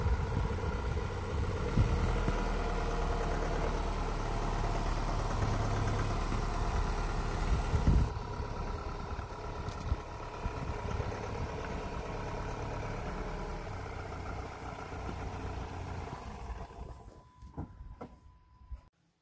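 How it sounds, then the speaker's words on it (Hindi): A vehicle engine idles and runs steadily in snowy conditions as it reverses, a constant low rumble that drops slightly partway through and fades near the end, with no voices. "मैं गाड़ी रिवर्स करूंगा"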